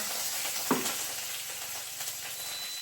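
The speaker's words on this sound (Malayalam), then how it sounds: "ഞാൻ ഈ തോരൻ വെക്കുന്നതിൽ വച്ചൽ മുളക് കറിവേപ്പില കടുക ഇതൊക്കെ താളിക്കുവേ" Chili, curry leaves and mustard seeds tempering in hot oil for a beetroot thoran, a steady close sizzle and hiss with one brief crackle, alone without talk.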